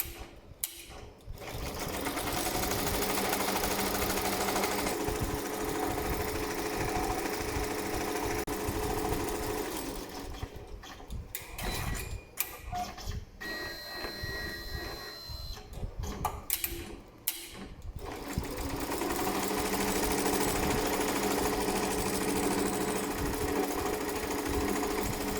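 Rainbow embroidery machine stitching an applique outline, running with a fast, steady mechanical chatter close by, pausing briefly in the middle before resuming.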